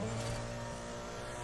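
Mitsubishi Lancer X racing in Need For Speed The Run, a steady engine drone at speed with faint tire noise, held at an even level for a brief moment.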